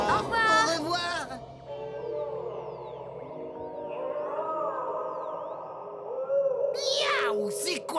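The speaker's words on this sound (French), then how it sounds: "Des narvals, capitaine. On dirait un appel au secours." Eerie whistling and chirping narwhal calls sweep up and down, cartoon-style, against an underwater-like background, with voices talking briefly at the start and end.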